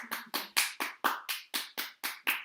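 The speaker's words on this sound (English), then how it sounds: "Tane is doing a lovely job clapping here" One person claps after a live poetry reading, about ten crisp, evenly spaced hand claps at a steady rhythm, close and alone.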